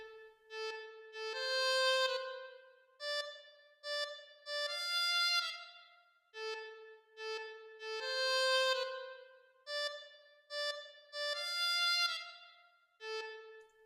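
A bowed violin melody of sustained notes in a hip-hop beat made in FL Studio, rising and falling phrases with short gaps, played alone and clearly upfront.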